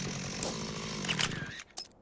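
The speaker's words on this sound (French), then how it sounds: "je débloque désormais la tronçonneuse à une main" A one-handed chainsaw weapon in the video game Dead Rising Deluxe Remaster buzzes and revs loudly up close with a harsh, gritty motor tone, cutting out briefly near the end.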